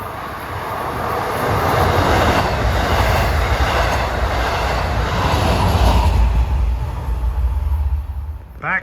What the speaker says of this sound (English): Coming west, 542 is train 659, Port Jeff to Jamaica.